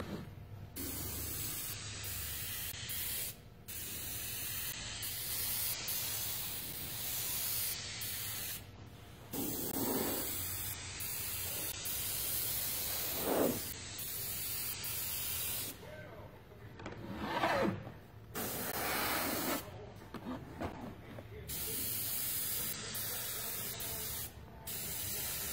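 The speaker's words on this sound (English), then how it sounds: "Grab an airbrush, put a little black in it," Airbrush spraying black paint for drop shadows on custom flame artwork, a steady close hiss broken by frequent short pauses and trigger releases, with faint background noise.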